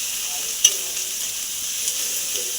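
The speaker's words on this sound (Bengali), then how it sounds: "এবার ভালো করে তেল ছাড়া অবধি আমি কষে নেব।" Cumin, chili and turmeric powder with salt frying in oil as a masala, a continuous bright sizzle with a single stirring knock, close and steady, no voices.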